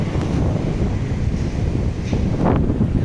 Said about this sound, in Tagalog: Kaya sobrang lakas ng hangin.